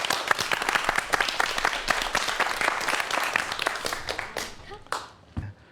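Dense applause from a lecture audience at a Korean talk on virtual reality, loud and steady for several seconds before thinning into scattered claps as it dies away.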